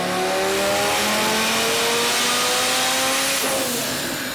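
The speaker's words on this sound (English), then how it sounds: "This thing behind me is my 2008 Lamborghini Gallardo Spider, and it recently did a dyno day where it did this." A 2008 Lamborghini Gallardo Spider revs hard on a dyno, its engine note climbing steadily in pitch, loud and close, before a quick shift or lift near the end.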